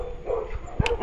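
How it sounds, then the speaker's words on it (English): Neighborhood dogs bark and yip in short bursts at a moderate distance, with a sharper yelp near the end over low outdoor background noise. "See, I told you about these dogs"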